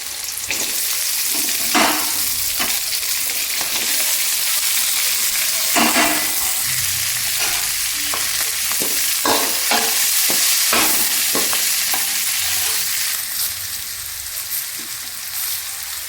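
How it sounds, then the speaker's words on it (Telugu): Beans fry in a hot pan for a curry, a steady loud sizzle broken by repeated scraping strokes of a spatula stirring them, close and continuous with no voices. "తర్వాత దీంట్లోకి బీన్స్ వేయాలి"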